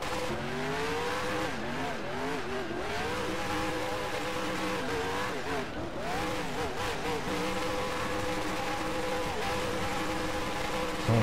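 A race car in NASCAR Racing 2003 does donuts and burnouts, its engine revving and warbling continuously with rising and falling pitch, tires squealing throughout at steady high loudness.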